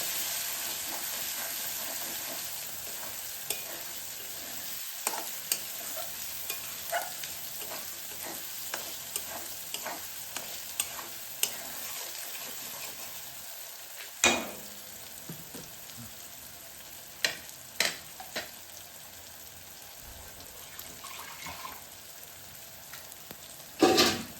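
Paneer with ground coriander and Kashmiri chilli powder being sautéed and stirred in a pan for paneer bhurji, giving a steady low sizzle broken by scattered scraping clicks of the spoon against the pan.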